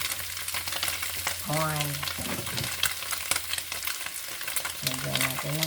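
Winged beans and tofu fry in a pan with a continuous sizzle while a utensil stirs and scrapes, close and busy; a voice briefly talks in a couple of spots.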